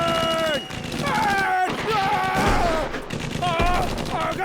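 Gunfire sound effect on a Comedy Circus stage, a dense, loud burst of rapid shots layered over a musical sting and stage noise, running throughout with brief dips.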